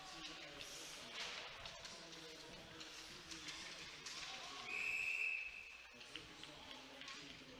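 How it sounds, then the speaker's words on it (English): Referee's whistle at a high school ice hockey game, one short shrill blast for offside sounding partway through over arena noise, skate scrapes and thumps. "Whistle and an offside here against Strathaven"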